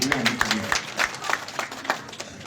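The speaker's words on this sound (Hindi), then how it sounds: "कम से कम पुरुषों को ताली बजानी चाहिए" Audience applause at a Hindi political address marking Ambedkar Jayanti: steady crowd clapping, moderately loud, with a voice speaking over it.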